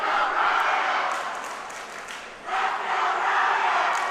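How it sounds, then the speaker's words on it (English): Collegiate 3D archery teams at a national championship cheering in a loud crowd roar that swells, dips briefly, then rises again, with scattered shouts mixed in. "you can hear some of the teams start cheering"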